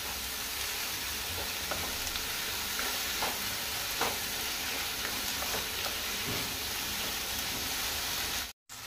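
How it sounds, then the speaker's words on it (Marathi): Chopped onion, tomato, garlic and ginger frying in a pan on medium heat, giving a continuous hissing sizzle with occasional faint utensil taps, steady throughout and briefly cut off near the end. "मिडियम गॅसीचेर आमकां बरें फ्राय करून घेवपाक जाय"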